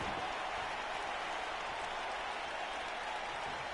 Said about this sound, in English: Crowd hype.